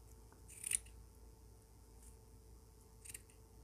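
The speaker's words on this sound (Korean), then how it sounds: "이 고리들을 가위로 이렇게 다 잘라주세요" Scissors snipping loops of paper yarn on a crocheted summer bag, two quiet cuts spaced a few seconds apart over a faint steady background hum.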